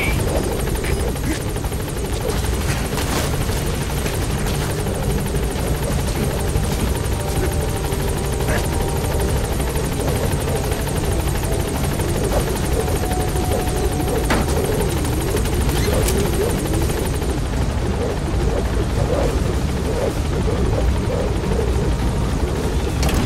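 Pequod helicopter hovering at a landing zone in Metal Gear Solid V: a loud, continuous rotor thrum and engine whine that holds steady throughout, with radio voices talking over it.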